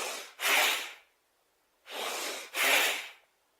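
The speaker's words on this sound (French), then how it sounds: "Respiration Bastrika." Forceful bhastrika pranayama breathing comes as two pairs of sharp, noisy breaths close to the listener, each pair being an inhale and a stronger exhale, separated by a brief silent pause.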